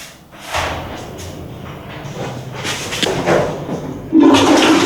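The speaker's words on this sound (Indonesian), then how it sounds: "Jangan lupa disiram" A toilet flushes close by with a loud rushing, gurgling wash of water that swells and then surges again near the end, with no talking over it.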